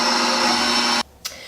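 Electric mixer whirring steadily and loud while beating vanilla buttercream frosting with powdered sugar, then cutting off abruptly, followed by a brief clink.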